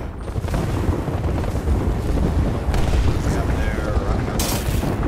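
An arc star grenade goes off in Apex Legends during an intense ranked match, its electric burst and booming gunfire-heavy combat noise layered under constant player talk.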